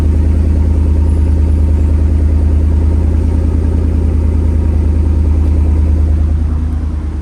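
Steady, deep idle of a RAM pickup's 6.4L HEMI V8 with resonator delete and 4-inch tip, a low throbbing rumble, loud and close, holding an even rhythm throughout with no voices.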